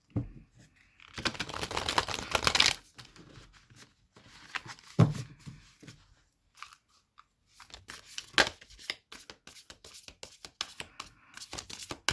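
Starseed Oracle cards are shuffled in close, papery bursts of riffling and rustling, with pauses between rounds and quick flicks and taps.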